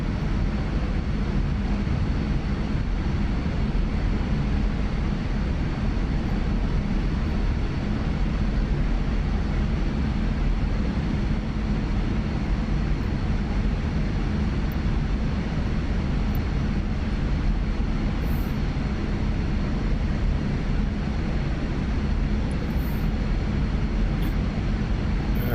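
Steady broadband jet roar of a MiG-29 in flight within the DCS flight simulator game, armed for an air-to-ground mission, a constant dense rumble running unbroken throughout with no talk.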